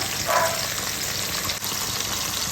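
Onion pieces and dried kasuri methi fry steadily in a hot pan, giving a continuous bright sizzle with a brief surge early on, no voices.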